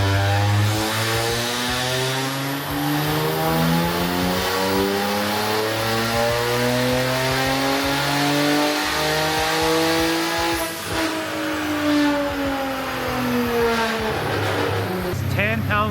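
A twin-turbo Genesis car engine revs hard on a dyno, its pitch climbing steadily through a long wide-open pull with harmonic whine, then easing off near the end; loud and close, with talk briefly over it.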